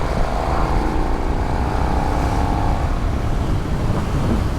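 A 2022 KTM 1290 Super Duke R motorcycle engine pulls hard in fifth gear at about 50 mph while overtaking, a loud, steady roar with rising pitch and heavy wind noise throughout.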